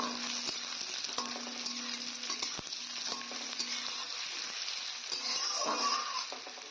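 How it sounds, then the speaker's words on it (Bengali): Potato pieces sizzle steadily in hot mustard oil in a pan, with occasional scraping and clinks of a spatula stirring them; a continuous, fairly quiet frying hiss with no talk. "এবার আলুগুলোকে নেড়ে চেড়ে কিছুক্ষণ ভেজে নেব।"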